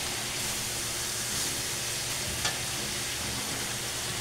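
Tomato paste sautéing in hot oil for a pork tongue asado, giving a dense, even hiss and sizzle with a faint stir, close and continuous.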